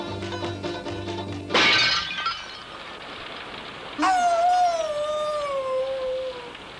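An old, worn-out hound dog lets out a long, drawn howl that slides slowly downward, preceded by a sharp crash-like burst, all over a constant rain-like hiss.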